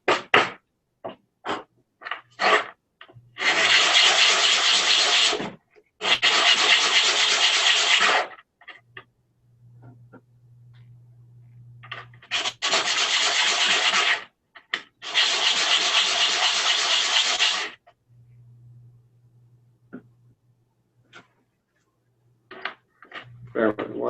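Sandpaper is rubbed over wood pieces during a wood-stitching project at a woodturners' gathering, in several long, loud, even scraping strokes broken by short pauses and lighter scratches.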